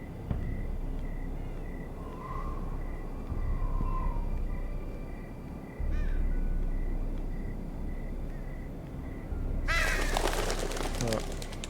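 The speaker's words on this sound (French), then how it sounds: "Des corbeaux, ouais, je pense." Crows caw in the background of a Game of Thrones scene in the Telltale video game, faint calls over a steady ambient bed before a louder burst of noise near the end.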